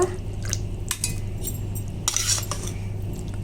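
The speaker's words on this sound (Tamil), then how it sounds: "இன்னும் கொஞ்சம் தண்ணி விட்டுக்கலாம்" Water is poured into a curd mixture for thayir vadai kuzhambu in a home kitchen. Soft splashing mixes with bright clinks of a utensil against the vessel over a low steady hum, with no talking.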